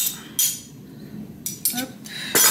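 A spoon scraping and knocking against a bowl of dense wholemeal sandwich-bread dough, several sharp, close metallic scrapes in irregular bursts with no talking.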